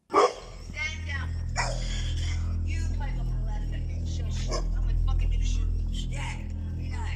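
Dogs barking on a San Francisco street, a few sharp barks near the start and scattered yips later over steady low traffic rumble, with talking through much of it.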